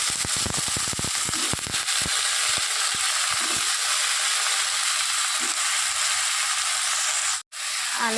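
Something frying in a pan before potatoes are added makes a crackling hiss, with sharp sputtering pops bunched at the start and then a steady sizzle with occasional spatters, close and fairly loud, with no talking.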